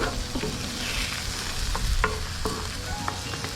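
Eggs sizzling in a pan for chorizo breakfast tacos, a steady close frying hiss broken by several sharp scraping stirs of a utensil, with no voices.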